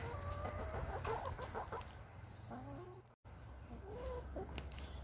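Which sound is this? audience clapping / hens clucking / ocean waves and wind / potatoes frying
hens clucking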